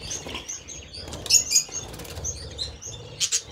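A young budgerigar flutters in flight indoors, giving several quick, soft bursts of wingbeats with brief pauses between them, close and fairly faint.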